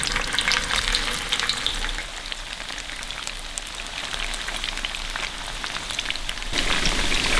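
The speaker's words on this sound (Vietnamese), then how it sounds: "Khi dầu đã nóng, mình cho đậu hũ vào chiên nè." Tofu fries in hot oil in a large pan, a dense crackling sizzle with scattered pops that runs continuously and grows a little louder toward the end.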